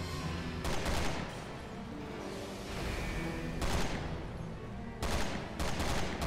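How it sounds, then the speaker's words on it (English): Assault rifle fire in Resident Evil 6, heard as several bursts of rapid shots with quieter game ambience between them. "Give me my assault rifle. I'm pissed. Yeah, that fucking kills him in a few shots"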